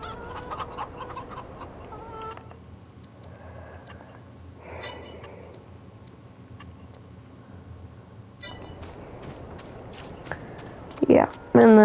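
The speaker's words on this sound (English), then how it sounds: "Then right over here are my chickens." Farm chickens cluck in scattered short calls at close to middle distance, irregular and overlapping at times, while a person talks over them.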